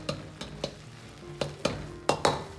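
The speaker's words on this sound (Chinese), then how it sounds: "接着下入适量的香辣酱，炒出颜色，炒出香味" Spicy sauce is stir-fried in a wok with scallion and ginger, a soft sizzle punctuated by about seven sharp metallic scrapes and knocks of a spatula against the pan, irregularly spaced and close.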